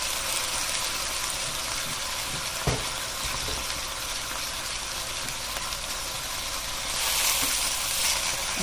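Pineapple chunks and onions browning in a single pan for pineapple chicken, giving a steady, close sizzle of frying throughout with one brief clatter near the middle and a slightly louder burst of hissing toward the end.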